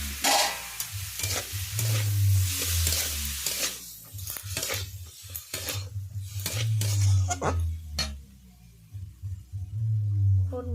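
Cut potato and eggplant fry and are stirred in a pan, with a steady sizzle under repeated scraping strokes that come in bursts, close and fairly loud.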